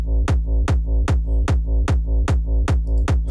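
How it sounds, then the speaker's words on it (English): Distorted acidcore kick drums stacked with a low-passed main kick, made in Ableton Live, hit in a steady, loud four-on-the-floor pulse of about nine booming hits, alone with no voice. "together with our main kick that we made earlier with that low pass on it, it sounds like this."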